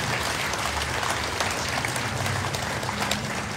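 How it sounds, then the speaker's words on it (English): A crowd at a consulate office opening gives a consul general a sustained round of applause, an even, continuous patter of many hands at moderate volume. "Let's give him a round of applause"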